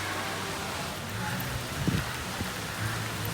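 Heavy monsoon rain falls in Pune during an orange alert, a dense, steady hiss close by with faint low rumbles underneath.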